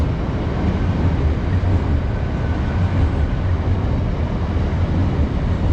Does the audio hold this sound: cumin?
no